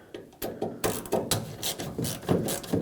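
A Phillips head screw being backed out of a 1998-2011 Ford Ranger tail light assembly from inside the open tailgate, producing close, repeated ratcheting clicks in a steady rhythm.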